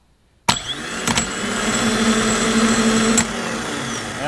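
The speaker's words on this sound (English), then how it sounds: "I spun the starter over a little bit" A Jeep XJ Cherokee starter motor, removed and run on a bench from a jump pack, kicks in with a sharp clack and whirs steadily and loudly, with a couple of clicks partway through and no talking.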